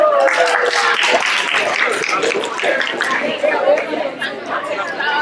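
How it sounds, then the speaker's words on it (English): Continuous applause and cheering from an audience at a poetry slam, dense and loud throughout, with crowd chatter mixed in. "One more round of applause for them."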